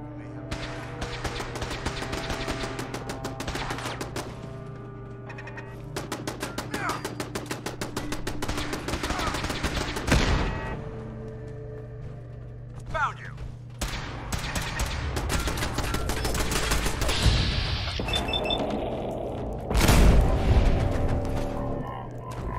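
Automated turrets firing in Fallout 4 inside a game facility, dense bursts of rapid gunfire and booms crackling over a steady low hum, with a voice speaking occasionally amid the shooting.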